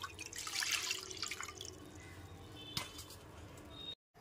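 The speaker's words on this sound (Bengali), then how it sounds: "প্রথমে একটা পাত্র নিয়ে নিয়েছি, তাতে দিয়ে দিলাম কিছুটা পরিমাণ জল" Water poured from a vessel into a cooking pot on a home stove, a steady splashing gush for about two seconds that tapers into drips, fairly close and alone, with a brief clunk near the end before a short silence.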